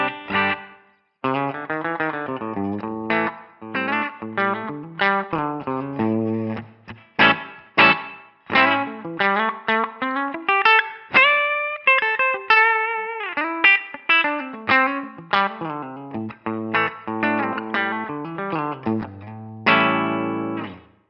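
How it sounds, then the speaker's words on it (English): Electric guitar played through a Line 6 POD Go with a subtle Dynamic Ambience reverb, a run of distorted single notes and short phrases with a light natural tail, played alone for about twenty seconds. "gives us the ability to get a really natural sounding reverb on our presets"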